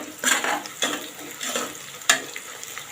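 Halved cashews sautéing in oil in a pan, a steady close sizzle broken by several scraping stirs and light clinks of a utensil against the metal.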